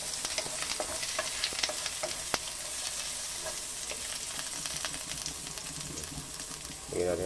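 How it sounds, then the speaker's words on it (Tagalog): Garlic and ginger frying in a pan for pink salmon sinigang sa miso, a continuous soft sizzle with scattered pops and crackles, a brief voice at the very end. "lagyan muna natin ng bawang. Ayan, saka luya."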